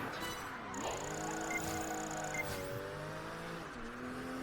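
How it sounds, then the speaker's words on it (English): A racing car engine in the Xbox 360 game Project Gotham Racing 4 revs and shifts through gears, pitch sliding up and down, with a brief tire squeal over a steady background. "Sounds like it's some busted car."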